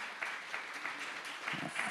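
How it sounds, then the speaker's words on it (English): A conference audience applauds a speaker and two discussants, a fairly faint, steady patter of clapping with small swells, heard from some distance in a hall. "Shall we give a big round of applause to the speaker and the two discussants?"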